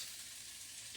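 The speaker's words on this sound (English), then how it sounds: "Okay, then I'm gonna put the onions on first." Onions for burgers frying on a stove, a faint, steady hiss of sizzling throughout the brief moment.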